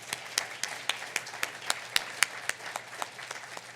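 Steady crowd applause at a university president's lunch in Surrey, with close, rhythmic claps and sharp peaks running throughout and no talk over it.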